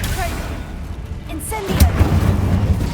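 A Confringo blasting curse in the video game Hogwarts Legacy lands with a sudden booming explosion partway through, followed by a deep rumbling tail layered over ongoing game ambience and effects.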